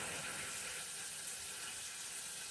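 Water runs steadily through a hand-held shower head hose, a constant close hiss and spray with no pauses.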